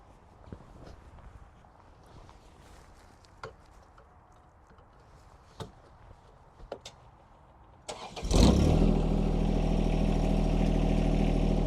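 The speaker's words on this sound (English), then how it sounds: "I'm going to go ahead and start up the tractor" A few soft clicks and thumps, then a John Deere 1025R compact tractor engine cranks and catches, settling into a loud, steady idle that continues to the end.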